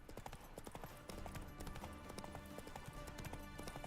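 Roach the horse's hooves clip-clop steadily in The Witcher 3: Wild Hunt, a continuous rhythmic trot running loud and close throughout, with game ambience mixed beneath.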